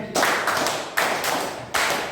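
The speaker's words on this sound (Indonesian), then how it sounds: "tepuk tangan 5 kali." A group claps hands together in unison, producing loud repeated bursts of clapping close by, with no talking over it.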